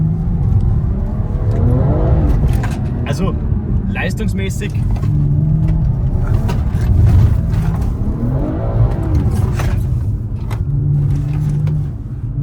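A BMW M340 drives hard and slides on a wet track, its engine a loud, steady roar with rising and falling revs and tyre hiss throughout, while a voice talks over it.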